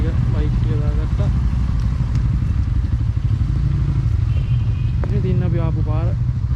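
Bajaj Pulsar N160 motorcycles run with a steady low engine rumble near a hill road climb in Sri Lanka, while people talk over the noise.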